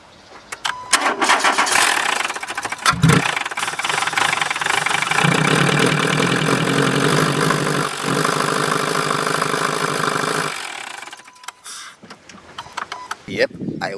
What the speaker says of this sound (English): Customer states engine runs quite rough.